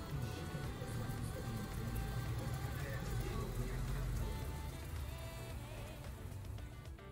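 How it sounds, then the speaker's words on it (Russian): Steady, dense rain hiss fills the whole stretch, a constant patter with no voices, fairly soft and even. "Утро пятого дня началось с дождя."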